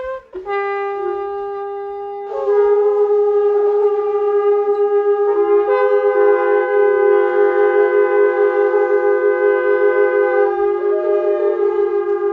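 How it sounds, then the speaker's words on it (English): Several shofars blown together after a church service, long loud sustained horn tones overlapping and layering with steady pitch, continuous for the whole stretch. "Blow the shofar, gentlemen. Josiah, blow your shofar."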